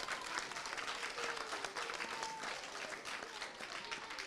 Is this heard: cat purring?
no